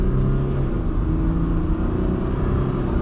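A 2021 Jeep Gladiator Overland EcoDiesel truck accelerating hard in four-high, its deep diesel engine rumble steady and loud close by, with no talk over it.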